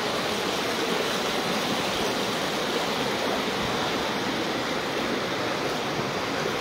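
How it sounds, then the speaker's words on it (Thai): Floodwater rushes steadily along the Chiang Mai–Lamphun road as a continuous, loud broadband wash with no breaks and no voices. "น้ำไหลออกมาจากบ้าน"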